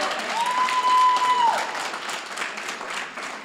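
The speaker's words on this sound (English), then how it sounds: "So give them a round of applause." A school academic hall of fame ceremony audience gives a round of applause, steady dense clapping throughout, fairly loud and filling the room, with a brief whistle early on.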